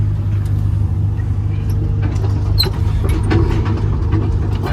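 Case CX 240 excavator engine running steadily and close, a constant low drone with faint hydraulic whine and small clicks as the boom arm is raised, no speech.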